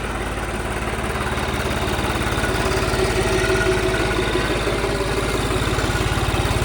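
A tractor engine idles steadily nearby, a low, even mechanical throb with regular pulsing that holds alone and unchanged throughout.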